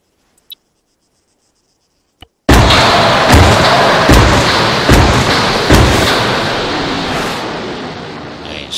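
Artillery shells strike target positions in a military video game, a loud burst of deep booming impacts after a near-silent start with a couple of small clicks, then repeated heavy thuds rolling over a long rumbling tail.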